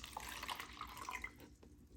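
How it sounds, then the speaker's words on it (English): Water is poured back into an indoor plant's container, a steady close splashing trickle with a few bright drips, fading out near the end. "So pour the water back."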